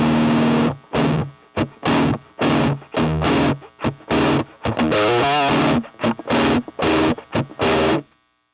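Distorted electric guitar chord, strummed in a rhythmic pattern of short choppy bursts with brief silences between, loud and close, with a brief wah-like wobble partway through.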